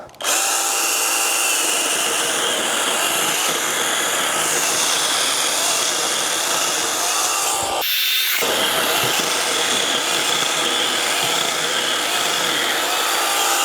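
A GRAND budget battery mini chainsaw on a 2 Ah battery whines steadily as it cuts through wood, loud and continuous, with a brief drop in the motor sound partway through before cutting resumes.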